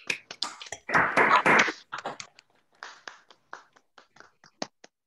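Scattered claps from a few people welcoming Dr. Balcetis at an online OSU psychology colloquium. A short burst of dense clapping gives way to sparse, separate taps and claps, close and fairly quiet, with no talking.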